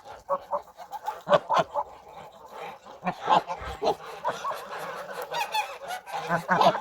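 Young geese honk repeatedly in a yard, scuffling or mating, with overlapping loud calls in irregular bursts close by.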